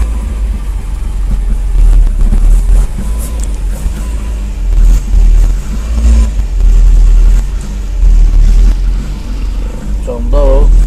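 Engine of a 1977 Chevy Luv SS with a faulty choke, held at raised revs by the gas pedal, a loud steady low drone running throughout, with someone talking over it.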